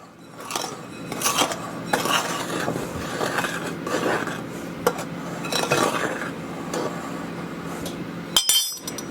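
Flour, baking powder and salt are stirred together in a bowl with a utensil, producing repeated close scraping and clinking strokes against the bowl in an uneven rhythm.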